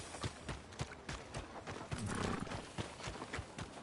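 Horse hooves clip-clop in a steady rhythm in the video game Red Dead Redemption 2, joined by a short neigh partway through, fairly close and clear.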